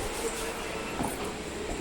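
Inside a moving train carriage, a steady low rumble and rolling hum fill the space at moderate volume, with faint murmurs of people in the background.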